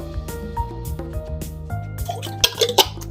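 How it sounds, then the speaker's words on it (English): Water trickles and splashes into a nearly empty glass jar of pasta sauce in a home kitchen, close drips and glugs with small clinks at the end, over a low appliance hum. "I'm just gonna add a little bit of water"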